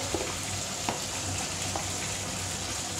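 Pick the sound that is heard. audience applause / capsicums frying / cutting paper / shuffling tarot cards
capsicums frying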